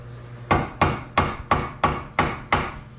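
A hammer strikes a cold chisel wedged in a VW Golf suspension strut, giving seven sharp metallic blows at a steady, slightly quickening rhythm, close and distinct with no talk.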